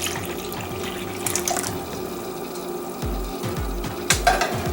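Milk poured into a mixing bowl for a Watergate salad gives a steady, close liquid gurgle and stream with a few light clinks, with no talk.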